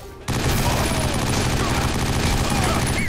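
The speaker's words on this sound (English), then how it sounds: "there's bullets coming through me and everything" Heavy sustained gunfire rages in 50 Cent: Blood on the Sand, starting abruptly after a brief quiet moment and continuing as a loud, dense barrage with voices mixed underneath.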